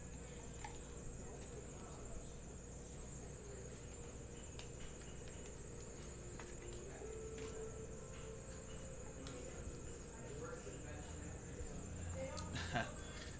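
Squeaky air conditioning system, likely a fan or belt, chirping in a steady, insect-like pattern throughout, faint and continuous in a quiet room.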